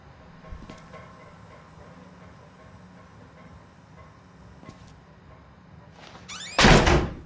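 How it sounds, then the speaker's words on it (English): A door slams shut in the horror game Outlast, one sharp loud bang near the end after quiet ambient rumble and a few faint knocks. "don't slam the fucking door!"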